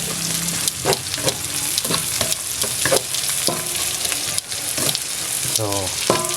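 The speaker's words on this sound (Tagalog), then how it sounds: "nagisa na natin siya" Leftover food sautés in a pan with a steady close sizzle and frying crackle, punctuated by repeated scrapes and clacks of a utensil stirring, with no talking.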